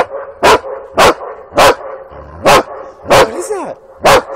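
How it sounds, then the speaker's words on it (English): A big dog on a beach barks seven times at a steady, even pace, each bark loud and close, with faint background noise between barks and a short whine near the end. "It's a big puppy over there."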